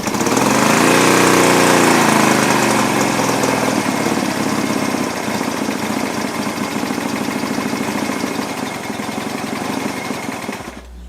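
A 1975 Honda CB200T vintage twin-cylinder motorcycle engine runs steadily at a fast idle, close and loud, with a brief rise in revs near the start and a sudden cutoff at the end.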